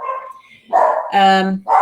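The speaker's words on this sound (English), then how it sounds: "I've got no idea what the dogs are barking at." A dog barks in a few sharp, close bursts with short gaps between them, loud and clear, with some tonal yelping in the middle.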